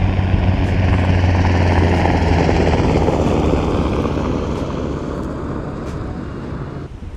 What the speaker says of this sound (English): And there's actually a chopper going by.